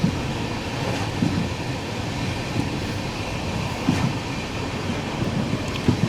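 Steady rumble of a passenger train running on rails through fog in Gujarat near Dwarka, with a continuous low roar and faint periodic wheel clacks, alone and fairly close.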